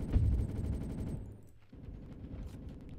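Rapid automatic gunfire in a Roblox video game, a dense sustained burst that briefly dips before resuming, loud and continuous with no voices over it.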